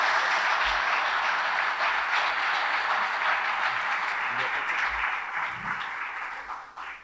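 Sustained applause at a men's lacrosse awards breakfast, steady broadband clapping from a group that gradually thins and fades toward the end.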